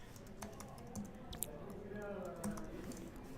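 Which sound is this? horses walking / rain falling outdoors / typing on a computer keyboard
typing on a computer keyboard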